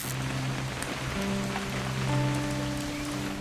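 Steady rain patters on a surface with a constant wash of noise, alongside soft sustained musical tones in the background, in the video game What Remains of Edith Finch.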